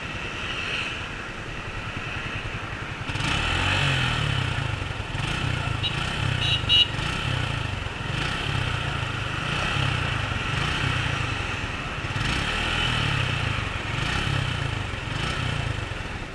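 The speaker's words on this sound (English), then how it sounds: "So that was just to give you guys a fair idea about the exhaust note, and trust me guys, this is the best sounding exhaust note on a 150cc bike" A 2017 Suzuki Gixxer 150cc BS4 motorcycle runs alone with no talk: a quiet idle at first, then a louder, pulsing exhaust note with repeated throttle blips from about three seconds on.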